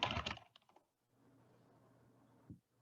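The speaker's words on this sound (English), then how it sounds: "all we have to do now is type Flask run." A few quick computer keyboard keystrokes land right at the start, followed by a faint steady hum and one last soft click.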